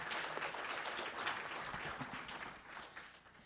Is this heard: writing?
no